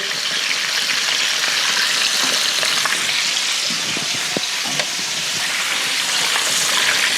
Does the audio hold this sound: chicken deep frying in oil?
yes